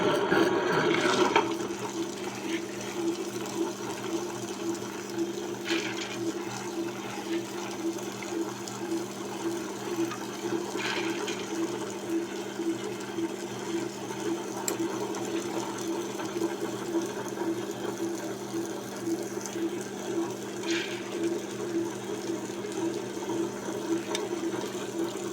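A wet grinder grinding soaked urad dal with fenugreek, running as a steady droning hum with a regular rhythmic churn and faint watery swishing, continuous throughout with no talking.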